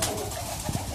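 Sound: pigeon cooing

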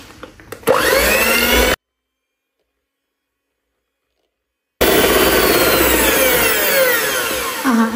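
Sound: whipping eggs until foamy

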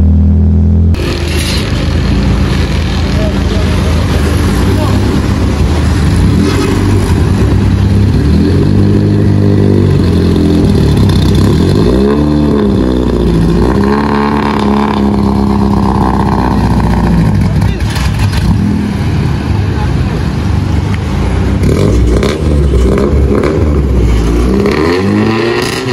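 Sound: modified Honda Civic engine noise, faulty silencer

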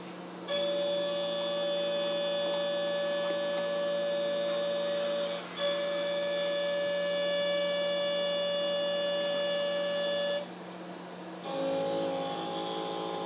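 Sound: CNC machine cutting metal for locomotive rods

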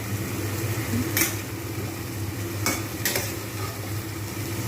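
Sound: spice paste with caramelized sugar frying in oil

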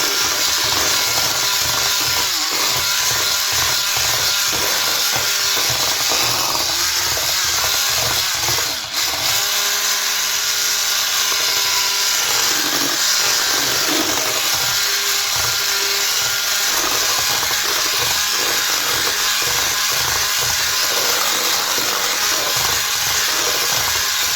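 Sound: mixer whipping cocoa whipped cream

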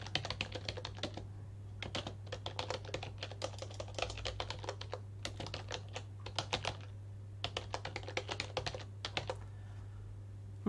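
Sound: typing on a computer keyboard

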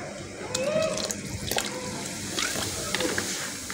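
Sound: chicken boiling in water with salt and vinegar

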